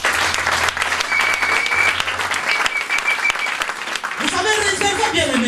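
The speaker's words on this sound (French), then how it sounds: "Est-ce que tu vas acclamer le Seigneur?" A church congregation breaks into sustained applause and cheering in praise of the Lord, loud clapping filling the whole stretch with a few voices calling out over it.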